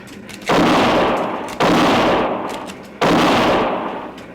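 Three loud gunshots ring out one after another, each a sharp crack with a long decaying echo, in a Western frontier radio drama.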